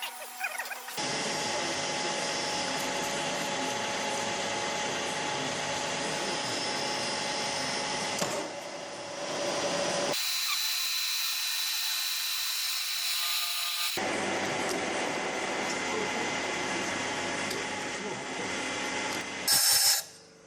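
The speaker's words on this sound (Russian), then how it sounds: "Затем берет сверловую десятку и проходит насквозь канал под резьбу свечей." Continuous loud grinding of a 10 mm drill boring through the spark plug thread channel of a Kia Sportage 2.0 cylinder head, running steadily with a brief pause partway and a higher whine near the end.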